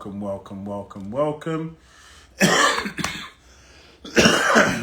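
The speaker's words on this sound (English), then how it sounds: "got a bit of a cough" Someone speaks briefly, then gives two sharp, harsh coughs close to the microphone, the second one longer and rougher.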